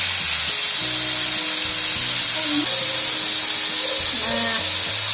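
Marinated chicken fries slowly in oil, giving a loud continuous sizzle with sustained tonal hums and shifting whines over it, and no speech is heard.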